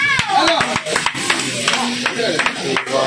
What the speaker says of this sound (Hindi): शिवानी के लिए एक बार जोरदार तालियां